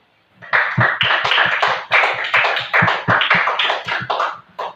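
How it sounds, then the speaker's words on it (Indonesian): A classroom group claps together for a student group in steady, rhythmic unison applause, close and fairly loud, with a strong regular beat and no talk over it. "Tepuk tangan dulu untuk kelompok bioma."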